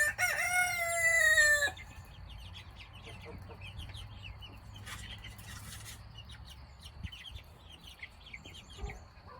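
A large fowl rooster crows loudly and close at the start, followed by hens clucking softly and intermittently on a farm, with scattered faint bird calls in the background.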